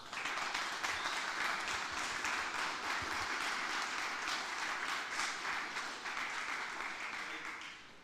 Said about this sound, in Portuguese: Então recebam com uma salva de palmas